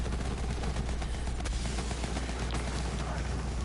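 Dense, rapid gunfire pours continuously at a boss in the video game Borderlands 3, loud and sustained with sharp repeated cracks layered over a heavy rumbling bed.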